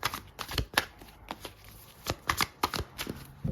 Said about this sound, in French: C'est parti, on pose les 4 cartes du tarot.